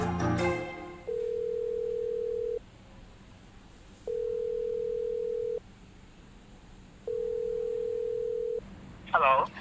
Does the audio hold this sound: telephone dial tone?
yes